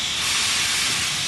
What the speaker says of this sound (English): The steam locomotive looks fascinating, it sounds fascinating.